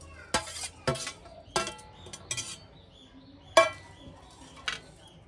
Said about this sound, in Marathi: एक वाटी मी खोबरा किसून घेतला आहे, तो आपण भाजून घेऊया।